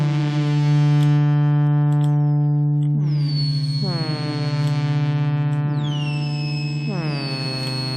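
A three-oscillator synthesizer sustains a single low harmonic-rich drone while higher filtered sweeps rise and fall in repeated swooping arcs, loud and continuous with no voices.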